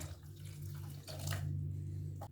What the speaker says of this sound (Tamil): இப்போ இதில் 1 கப் அளவுக்கு தண்ணி ஆட் பண்ணிக்கிறேன்.